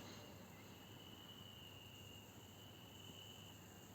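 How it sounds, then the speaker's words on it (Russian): Steady, dense chirping of crickets fills the air, a constant high trilling drone with no voices, heard outdoors at night. "Так громко поют сверчки"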